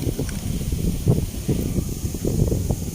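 Wind buffets an outdoor microphone in steady low rumbling gusts, with a faint rustle behind and no clear talking.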